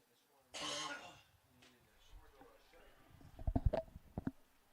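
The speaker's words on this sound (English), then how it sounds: "Doesn't do much good to mute my mic and cough into yours" A short burst of coughing or throat clearing close to a microphone during a college baseball broadcast, followed by quieter clicks and small bumps, faint background murmur.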